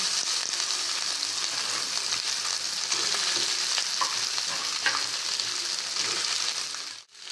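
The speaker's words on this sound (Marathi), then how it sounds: "आता यात हे कापून ठेवलेले बटाटे टाकायचे।" Cut potatoes frying and sizzling in a pan with cumin seeds and green chillies for a Mahashivratri fasting dish, a steady broadband hiss running throughout with a few brief stirring scrapes, ending in a short pause.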